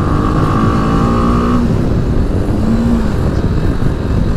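A BMW G310GS 300 cc motorcycle is ridden with its engine droning loud and steady close by, shifting pitch briefly as it pulls, and no speech.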